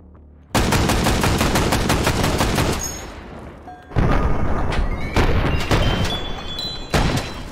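Rapid-fire gunfire empties a magazine in the VR shooter H3VR during modded Take & Hold: loud, close bursts of sharp shots, with a short pause midway and then more quick strings of rounds.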